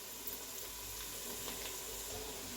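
Onion frying in a large pot, giving a steady, gentle sizzle that stays even and fairly quiet from start to finish with no talking.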